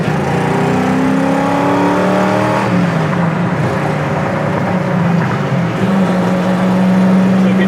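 A 1969 Camaro restomod with a six-speed accelerates hard, its engine note climbing loudly, then dropping with a gear change before pulling again.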